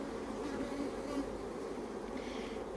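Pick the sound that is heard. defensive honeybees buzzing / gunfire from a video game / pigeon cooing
defensive honeybees buzzing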